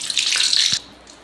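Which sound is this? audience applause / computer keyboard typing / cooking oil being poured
cooking oil being poured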